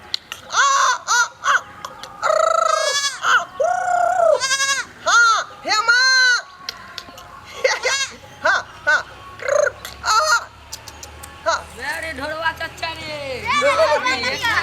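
Goats bleat loudly and repeatedly at close range in a rural village setting, a string of wavering cries with people talking over and between them.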